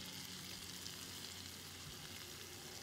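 Floured chicken pieces sizzle and crackle steadily in a hot frying pan, a dense continuous frying hiss throughout with no talking.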